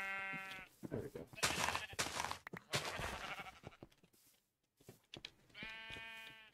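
Minecraft sheep bleat in short harmonic cries at the start and end, with blocky game noises and clatter in between.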